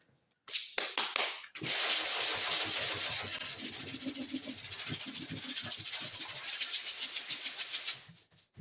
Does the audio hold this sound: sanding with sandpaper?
yes